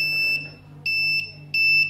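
Buzzer on an Arduino ultrasonic smart blind stick gives three sharp, high electronic beeps in a steady rhythm with short gaps between them, loud and close with no voices.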